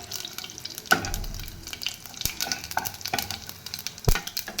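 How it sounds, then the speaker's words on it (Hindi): Cumin and mustard seeds with dried red chilies frying in hot refined oil, a crackling sizzle with sharp pops and spoon stirring, close and moderately loud. "एबे जीरा सोरिष पकई देबा"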